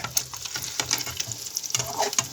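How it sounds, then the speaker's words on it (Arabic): Eggs fry in a hot pan and are turned over, giving a steady crackling sizzle broken by soft scraping and tapping bursts, close and fairly loud with no voices. "هقلب معاكم البيض"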